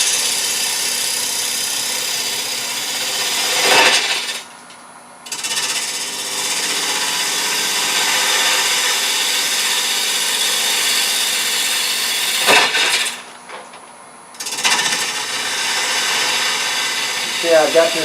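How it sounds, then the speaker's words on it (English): A woodturning tool cuts Norfolk Island pine on a spinning lathe, giving a loud, sustained rough scraping hiss that breaks off twice briefly before resuming, close up and continuous. "I've got this tool balanced on my hip, and I'm just using my body, not my arms, to guide these cuts."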